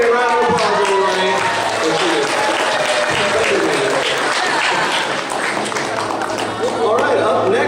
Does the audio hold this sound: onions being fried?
no